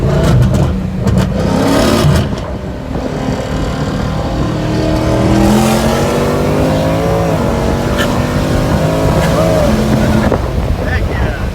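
A 700 whp Whipple-supercharged, big-cam Dodge Scat Pack pulls hard in a 60 mph roll race, heard loud from inside the cabin, its engine note and supercharger whine climbing steadily with occasional voices over it.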